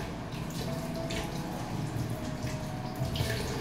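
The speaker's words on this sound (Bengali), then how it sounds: "ডেকি শাক ভিজিয়ে রেখে গিয়েছিলাম, তো এখন ধুবো।" Soaked dheki shak leafy greens being washed under running water. A steady, close splashing and gushing of tap water with small drips continues throughout, without voices.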